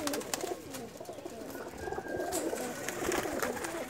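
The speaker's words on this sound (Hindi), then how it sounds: "बहुत से ब्रीड्स के कबूतर हैं" Pakistani flying pigeons of several breeds, tournament fliers, coo softly and continuously at a low level, with faint rustling around them and no speech.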